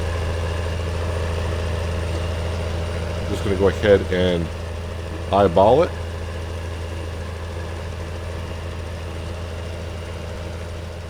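A tractor engine idles steadily in Farming Simulator 19, a constant low drone running through the whole stretch while someone speaks briefly in the middle.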